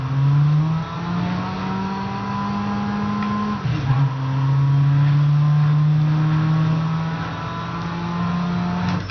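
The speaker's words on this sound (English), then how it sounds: "you hear that really low engine sound at the end" A car engine in the video game Midnight Club LA drones steadily at high revs, dips briefly as it shifts, then holds a loud, sustained, slightly buzzing tone.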